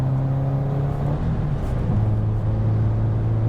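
Untuned Subaru Legacy GT engine with a bigger turbo, headers and a larger downpipe, giving a loud, steady, rough low drone close by with a slight shift in pitch midway.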